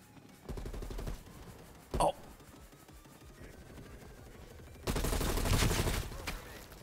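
Gunfire in the Cold War video game comes in short bursts of rapid automatic shots, one brief sharp burst in between, and a louder sustained burst near the end.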